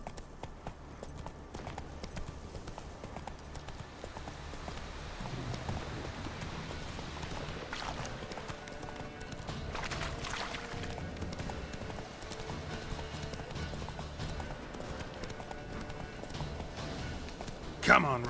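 Horse hooves clip-clopping in The Witcher 3 video game, a repeated clopping rhythm under ambient game sound and a speaking voice, with louder bursts toward the end.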